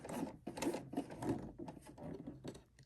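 A home sewing machine stitches a zipper pouch across a thick spot of layered fabric. It gives a close, labored, rhythmic thumping that slows and strains in bursts, and no one speaks.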